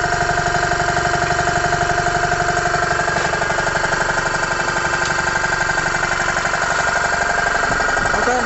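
A vintage Motivair air compressor runs continuously as it builds pressure, with a steady rapid pumping rattle and hum, loud and close, with no one speaking.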